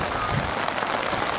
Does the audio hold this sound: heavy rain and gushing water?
yes